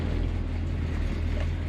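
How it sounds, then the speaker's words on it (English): A 1966 Chevy Impala SS with a small block V8 idles with a steady, low, mellow rumble, close and continuous with an even pulsing throb and no talking over it. "It's got that nice and mellow small block Chevy tone to it."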